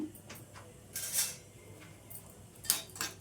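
A spoon scrapes and clinks against a pan while chana dal and urad dal are stirred for a coriander-stem and tomato chutney, in a few soft, irregular strokes up close.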